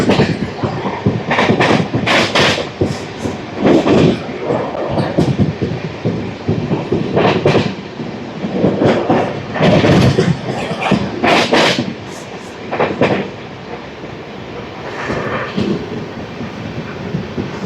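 The Venkatadri Superfast Express, Kacheguda to Chittoor, runs loud and close past a skipped station, a continuous rumble with rhythmic clickety-clack wheel beats and surging rattles of the carriages.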